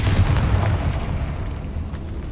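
Explosive blast from the Confringo fire spell in the Hogwarts Legacy video game: a deep, rumbling boom that stays loud and sustained with a dense low roar throughout, no voices.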